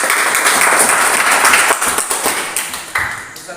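Applause from students for a group in a classroom, a scattered round of hand claps that thins out toward the end into a few separate claps.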